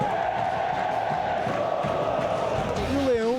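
Football supporters fill the Barradão stadium during a Série B match, a dense, steady roar of crowd noise and chanting that swells slightly near the end, with a voice talking over it.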